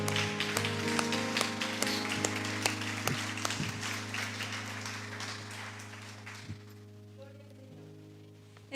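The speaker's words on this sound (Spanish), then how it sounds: "¿Le puede dar una ofrenda de palmas al Rey?" A church congregation claps in praise during a Spanish-language service in Monterrey, a dense patter of hands over sustained music that gradually fades, with a few sharper isolated claps standing out before the sound thins near the end.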